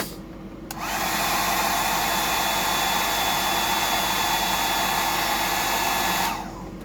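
A hair dryer blows on hair just after a mullet haircut, switching on with a steady, loud whooshing roar that holds for about five and a half seconds before cutting off, with no talking.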